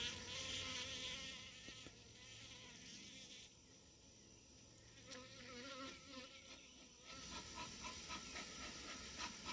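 Agitated honey bees swarm around a beehive on an overcast morning, a dense, close buzzing drone that rises and falls in loudness, with no talking.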